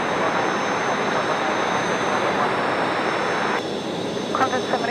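A Qantas Boeing 737 jet comes in to land at night at Brisbane Airport, a loud sustained roar of jet engines with a brief quieter dip near the end, heard close.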